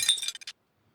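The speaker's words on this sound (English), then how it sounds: "Broken glass cracks" Broken glass cracks underfoot with a brief crunch, followed by a few small clinks, then silence.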